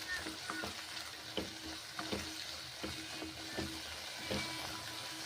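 Green peas sizzle steadily in a hot pan while they are stirred, with soft scraping clicks coming at irregular intervals over the constant crackle.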